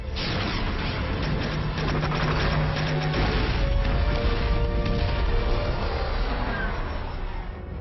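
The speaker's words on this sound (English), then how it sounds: "Firing countermeasures." Spaceship firing countermeasures at an incoming missile in a sci-fi TV series: a dense rumbling volley of booms and bursts, loud and continuous with tonal hum layered underneath, no talk.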